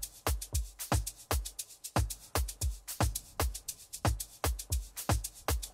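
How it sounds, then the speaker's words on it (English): Amapiano shaker percussion loop from a sample pack, a steady, busy run of crisp, hissy hits in a tight repeating rhythm with low thumps underneath, close and alone. "And then the next thing that's gonna make a drum will be the shaker"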